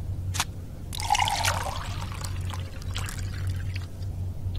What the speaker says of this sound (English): The water sound is so genuine. Sounds just like real water